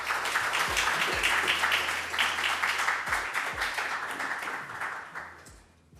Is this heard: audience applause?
yes